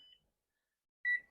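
A kitchen timer gives short electronic beeps: one faint tone at the start, then after a pause a louder, clearer beep, in a quiet room.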